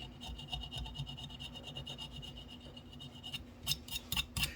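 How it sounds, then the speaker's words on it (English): A part from an AHM RS11 model locomotive being rubbed during a rebuild, a soft close scraping rub in a steady back-and-forth rhythm, then a few sharper brief scrapes near the end. "And maybe a little bit of rubbing."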